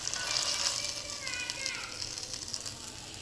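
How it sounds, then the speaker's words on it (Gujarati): Hot tempering of cumin, ginger-chilli paste and turmeric is poured into Gujarati kadhi, giving a steady bright sizzle and hiss that fades slightly over a few seconds, with faint voices in the background. "હવે આપણે વઘાર રેડી લઈશું"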